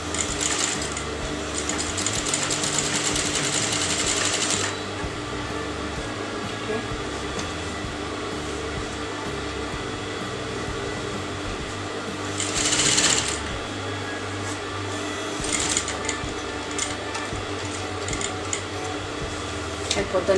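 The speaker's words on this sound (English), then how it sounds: "Just turn the fabric out and you're going to sew that again." Sewing machine stitching the outer edge of a canvas neckline, running in steady bursts of mechanical whirring with pauses between, close and fairly loud.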